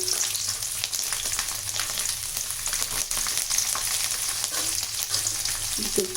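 Garlic cloves and curry leaves sizzle steadily in hot oil for a Tamil curry leaf garlic kuzhambu, a continuous close crackling fry with occasional stirring clinks near the end.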